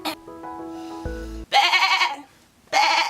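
A person's voice imitating a goat, giving two loud, nasal, wavering bleats up close after a brief stretch of music-like tones.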